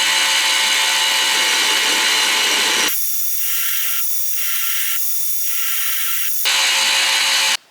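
A small grinding wheel cuts wolf's-tooth notches into the sides of Damascus steel rings, giving a loud steady hiss that drops to a thinner whine with several brief pulses before full contact returns, then stops abruptly.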